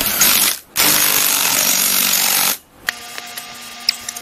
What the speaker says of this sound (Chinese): 接下来我们就可以把我们的螺丝重新上回去